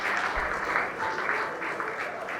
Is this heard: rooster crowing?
no